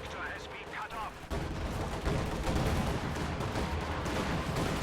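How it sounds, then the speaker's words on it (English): Walking Stuka rocket artillery firing during a Company of Heroes 2 battle: a dense, loud wash of blasts and rumbling fire that thickens after the first second and continues steadily, with a voice faintly under it. "Walking Stuka shot almost completely misses."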